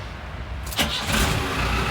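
A van engine cranks briefly and catches, settling into a steady idle rumble close by.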